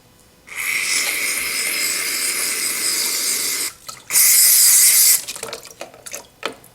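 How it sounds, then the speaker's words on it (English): Aerosol carburetor cleaner sprays in a steady, loud hiss into the bowl of a clogged small engine carburetor, running for about three seconds, then a second, sharper burst follows, with small handling clicks after. "now I should spray cleaner into the bowl"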